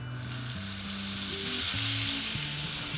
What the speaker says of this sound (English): Just melt some butter in the pan.